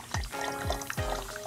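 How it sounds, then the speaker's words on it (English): Water pours through a funnel into a container for a homemade lava lamp, a steady gurgling stream with a few rising glugs as it fills, close and fairly loud, no talking. "And then keep and put the water in."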